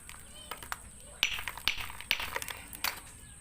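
A rough diamond stone is tapped by hand to test it, giving a handful of light, sharp clicks spaced about half a second apart, faint and close against a quiet background.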